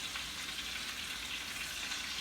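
Chicken pieces searing skin side down in a hot pan, a steady close hiss of frying fat with faint stirring, loud and even throughout with no voices.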